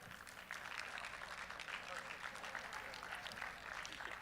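Audience at a USA Powerlifting meet applauds a Category 2 international referee: steady crowd clapping fills the whole stretch, with voices mixed in.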